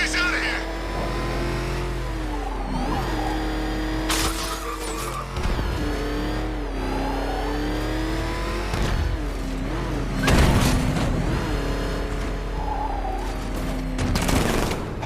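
Batman's tank in the video game Batman: Arkham Knight rumbles with a steady engine drone while rapid bursts of cannon fire crack out repeatedly, loud and close, under intermittent talk.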